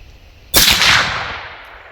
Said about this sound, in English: Here's the first shot, fire in the hole.